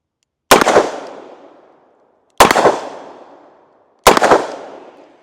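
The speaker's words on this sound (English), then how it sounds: "Let's go ahead and take some more double action shots with her." Three loud, sharp gunshots from a Smith and Wesson Model 19 revolver firing Winchester .357 Magnum double action, each crack ringing out into a decaying echo, spaced roughly two seconds apart, close up with no talk.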